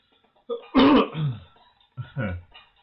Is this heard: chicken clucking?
no